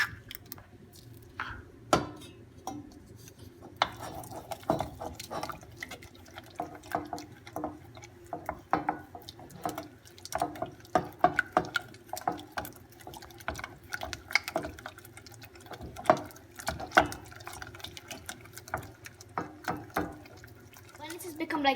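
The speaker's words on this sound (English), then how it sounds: "you get the one egg and you put it inside and then you start mixing" Egg being worked into warm choux pastry dough for Italian bignè cream puffs: soft, quiet wet squelches and sticky slaps repeating irregularly, close up and faint, with no talking.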